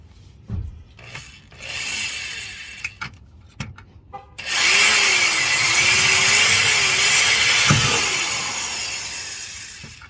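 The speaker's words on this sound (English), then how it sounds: "I'm gonna drill a small little pilot hole first, kind of exploratory hole" Power drill boring a small pilot hole through the carpet of a Honda Ridgeline, a few short bursts and taps first, then a steady loud whirring drill run for several seconds that winds down near the end.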